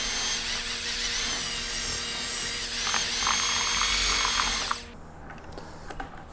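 A power drill fitted with a paddle whirs loudly and steadily as it mixes drywall compound in a bucket, then cuts off abruptly near the end, leaving quieter rustling.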